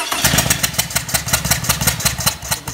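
Toyota Camry engine with a misfire cranking over and then catching, a loud close run of rapid starter-and-engine pulses that steadies into a rough, uneven idle with no voices.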